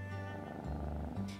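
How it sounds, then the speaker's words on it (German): In a video game, a white cat with orange spots purrs close up, a soft continuous low rumbling with gentle pulses, quiet and alone. "Eine weiße Katze mit orangefarbenen Flecken streckt sich."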